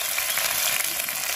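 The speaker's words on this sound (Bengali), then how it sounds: "কড়া করে ভেজে নিতে হবে" Shrimp frying in oil in a wok give a continuous close hiss, fairly loud and steady, with no voices.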